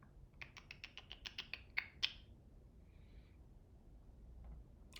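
Quick clicking keystrokes on a computer keyboard while entering an AutoCAD command, about ten crisp taps in a rapid run, then a brief faint rustle in a quiet room.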